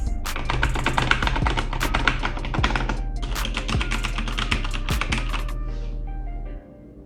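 Rapid typing on stainless steel keycaps over Cherry MX mechanical switches, a fast close clatter of sharp metallic taps over a low background hum, stopping abruptly near the end.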